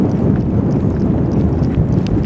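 Horse hooves clip-clopping at a steady trot, loud and close, with a constant low rumble of movement underneath.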